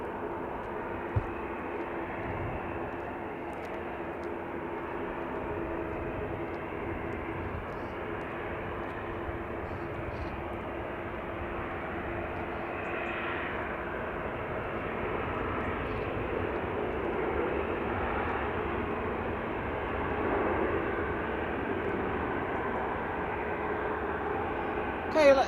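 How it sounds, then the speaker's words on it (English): A Ryanair Boeing 737-800 arriving from Cork comes in to land at Manchester Airport, a steady broad jet roar that holds for the whole stretch and swells slightly toward the end. "Just coming into land, we've got a Ryanair 737-800, registration EIEKM,"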